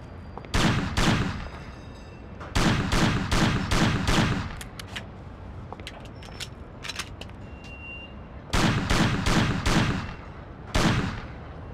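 Pistol shots in the Mafia campaign ring out in quick clusters of sharp, loud cracks, several groups of three to five shots separated by pauses with fainter echoing pops between, no talking.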